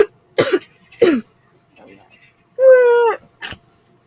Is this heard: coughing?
yes